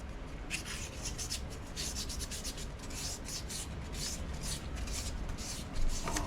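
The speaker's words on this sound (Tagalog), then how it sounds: "padaanan lang natin ng liha" Steady scratchy rubbing of sandpaper over a surface, continuous strokes with a brief louder scrape near the end.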